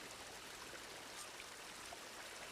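Water flowing from a sabotaged pipe in Horizon Forbidden West: a steady, soft, even rush of running water with no breaks, fairly faint and alone.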